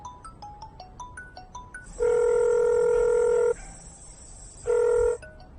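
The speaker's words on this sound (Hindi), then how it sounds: "ये उस साले का फोन वापस बज रहा है।" A mobile phone rings in a Hindi-dubbed South Indian movie scene. A few short electronic beeps come first, then a loud, steady electronic ring tone sounds in two sustained bursts with a pause between them. No one speaks.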